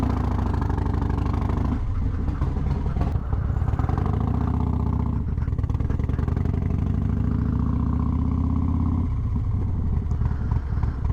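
Close, loud Harley motorcycle engine with an S&S 475 cam idling with a deep, uneven rumble and occasional revs rising and falling.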